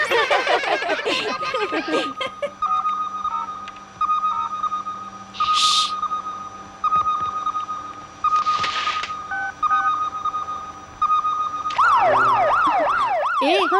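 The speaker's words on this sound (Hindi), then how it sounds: "ये फायर ब्रिगेड की आवाज है।" A fire engine siren wails and warbles, rising and falling in pitch, mixed with steady beeping tones and a few louder bursts of noise.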